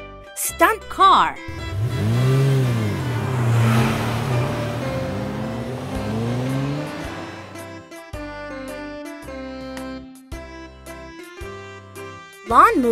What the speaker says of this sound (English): Stunt car.